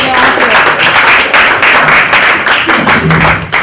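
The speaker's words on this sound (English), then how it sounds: "can the adults give the youngers a round of applause for their ideas?" An audience of adults at a youth business enterprise talk applauds, a steady dense patter of many hands clapping, loud and close throughout.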